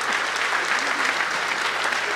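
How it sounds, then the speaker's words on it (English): Conference audience applauding steadily throughout, a dense, even wash of many hands clapping with no break and no speech over it. "Give a big round of applause."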